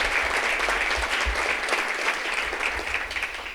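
Audience members at a community convening clap in sustained, dense applause, loud and close, continuing steadily with no speech over it.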